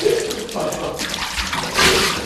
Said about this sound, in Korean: 온몸에 톱밥을 뒤집어 쓴 채로 집에 갈 수 없어서 꼭 샤워를 한다